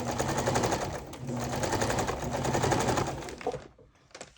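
A sewing machine stitches edging onto a Christmas junk journal, running in a fast, steady mechanical rattle up close before cutting out near the end.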